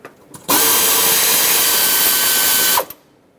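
A power tool whirs steadily for about two seconds while removing an 8mm bolt from the throttle body on a 5.4L V8 Ford E-350 van, starting and stopping abruptly with brief clicks before and after.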